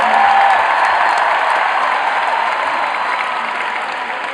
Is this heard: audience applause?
yes